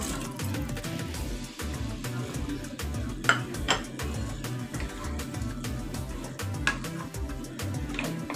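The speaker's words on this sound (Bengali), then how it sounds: "পনিরগুলোকে দিয়ে ভালো করে মিশিয়ে নেব" Paneer being stirred through chilli paneer sauce in a pan, with steady scraping and clinking of a utensil against metal and a few sharper knocks, close and continuous with no talking.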